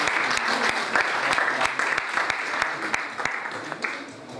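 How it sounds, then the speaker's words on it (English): Audience applause at a church thanksgiving celebration for a pastor's sixtieth birthday, a full crowd clapping with sharp, regular close claps standing out, plus some voices under it, easing slightly at the end. "Put your hands together for our big brother"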